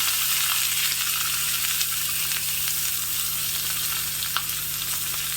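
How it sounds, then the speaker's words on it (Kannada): Chopped capsicum roasting in an oil tempering with curry leaves makes a constant close sizzle and fizz, broken by a few sharp pops and light stirring, over a low steady hum, with no talking. "ಈ ಕ್ಯಾಪ್ಸಿಕಮ್ನ ಹಸಿದು ಹಾಕೋದಕ್ಕೆ ಬದಲು ಈ ರೀತಿ ಚೆನ್ನಾಗಿ ಒಗ್ಗರಣೆಲಿ ಹುರಿದು ಬಿಟ್ಟು ಹಾಕೋದ್ರಿಂದ"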